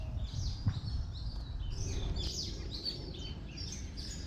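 Small birds in China chirp and tweet in quick, scattered calls, fairly faint and slightly distant over a soft outdoor background, with no talking.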